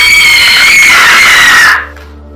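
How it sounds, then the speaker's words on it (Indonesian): A woman lets out a long, loud scream of fear, sustained and piercing for nearly two seconds before breaking off abruptly into quiet. "tiba-tiba keluar dari kamar mandi dengan teriakan ketakutan"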